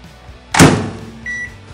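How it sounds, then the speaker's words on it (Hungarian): A microwave oven takes a plate of stacked cheeses sprinkled with oregano on baking paper: a loud, close thunk as the door shuts, then a single short beep as it starts. "a tányéron teszem a mikróba"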